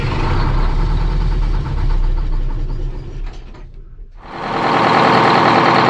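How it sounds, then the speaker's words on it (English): A Detroit diesel engine runs with a loud, steady knocking rumble, drops out almost to silence, then fires up again with a strong, full roar that holds steady. "I ended up just cranking it a few more times and it fired up."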